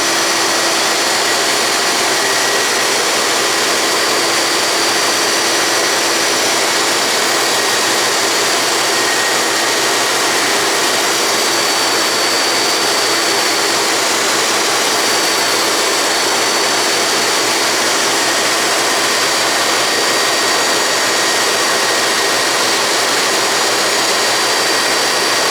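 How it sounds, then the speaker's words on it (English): A grinding wheel mounted on an Atlas lathe spins while grinding lathe centers, with a shop vacuum placed right under it roaring steadily; a loud, constant high whine and hiss holds evenly throughout with no pauses or talk. "The vacuum was right under the grinding wheel"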